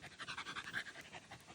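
An old Boston Bulldog pants rapidly and steadily up close, a rhythmic series of quick breathy huffs at low volume.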